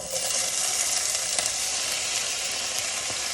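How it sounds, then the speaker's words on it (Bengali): Potatoes fry in a preheated pan for an English breakfast, making a steady, close hiss of sizzling oil with faint crackles throughout. "প্রথমে আমি আলুগুলো প্যানের মধ্যে দিয়ে দেব"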